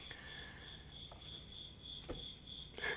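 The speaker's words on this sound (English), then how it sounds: "the crickets, that was perfect" Crickets chirp in a steady, high, unbroken trill, faint and alone, with a few soft thumps and rustles near the end.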